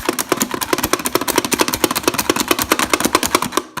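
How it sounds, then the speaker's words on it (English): Manual pull-cord or plunger onion chopper cutting an onion under a lid, giving a fast, steady run of sharp chopping clicks and thuds, close and loud throughout with no talking. "Voila, you have chopped onions."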